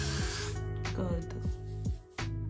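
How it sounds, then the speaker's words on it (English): A short, loud hiss from an aerosol spray can at the start, then a person talking close by. "let me just try to spray this side."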